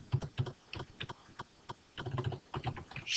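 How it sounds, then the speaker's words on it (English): Someone types on a computer keyboard in Excel, with irregular bursts of clicking keystrokes at close range and a few pauses between runs, with no speech. "So if I click on that box and start typing"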